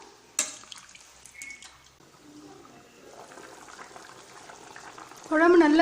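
Meat and radish curry boils in a pot with soft bubbling and faint clicks, growing to a louder, dense, close bubbling burst near the end.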